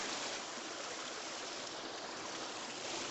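Constant rushing of a mountain stream in the Carpathians near the Cheremosh river, swollen after recent rain, a dense, even wash of flowing water close by with no breaks.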